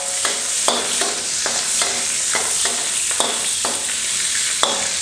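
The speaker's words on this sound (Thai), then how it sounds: "กุ้งครับเราไปผัด ผัดแค่พอสุกก็พอนะครับกุ้ง" Shrimp being stir-fried in a pan, a steady sizzle broken by a regular series of sharp scraping strokes from the spatula, close and alone without any voices.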